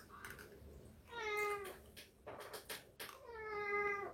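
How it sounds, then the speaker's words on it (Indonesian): An adopted cat meows several times in a row, with drawn-out, fairly faint calls heard close by in a quiet room. "Ini kucing yang kakak adopsi, dia dibuang kucingnya."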